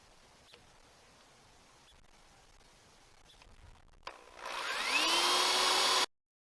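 A power drill bores holes in wood for a garden trellis. After a few quiet seconds it spins up into a loud, steady, close whine that holds for about two seconds, then stops abruptly.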